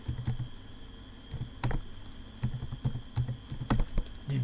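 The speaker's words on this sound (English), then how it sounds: "Let me type and then so that we can all see" Close keyboard typing in short irregular bursts of clicks and keystrokes with pauses between, at moderate level with no talking.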